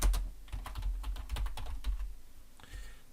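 Someone types a name on a computer keyboard: a quick, steady flurry of close key clicks running through most of the moment, with a brief pause before a final few taps.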